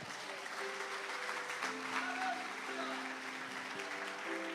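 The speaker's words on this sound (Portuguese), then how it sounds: "Quem pode aplaudir ao Senhor por isso?" A church congregation applauds together in a steady, sustained wash of clapping that lasts throughout, with soft held musical tones underneath.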